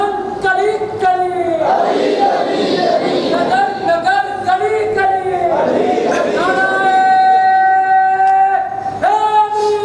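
A crowd at a religious gathering roars a chanted reply to a called slogan, loud and close, the massed voices rising in several waves between a speaker's calls.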